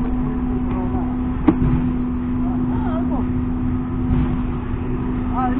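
Motorcycle taxi engine hums steadily while riding, a constant drone with a sharp tonal whine, and voices speak over the engine noise.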